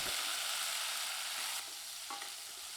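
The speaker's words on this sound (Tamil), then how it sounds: "இதை நல்லா வதக்கி விட்டுக்கலாம்." Green chilies and tomatoes sauté in a hot pan for an Andhra-style coriander thokku, giving a loud steady sizzle that eases slightly partway through, with a brief utensil clink near the end and no voices.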